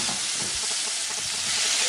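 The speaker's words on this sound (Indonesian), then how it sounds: "Kita masukkan lomboknya, kita aduk-aduk lagi." Onion and chili stir-frying in a pan for a chicken dish, a steady loud sizzle and hiss filling the whole stretch with faint scraping from stirring, no voices.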